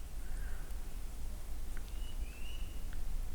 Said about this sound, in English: as we hear the birds singing outside the windows